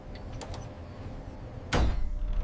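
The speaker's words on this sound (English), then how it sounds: "Vault door closes and secures completely." A heavy bank vault door at a euro printing and storage facility swings shut with one loud, abrupt broadband thud near the end, over a steady low hum of room noise.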